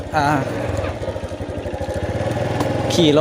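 A motorcycle engine runs close by with a steady, rapid low chugging throughout, ridden on a village trip, while a voice speaks over it at the start and end.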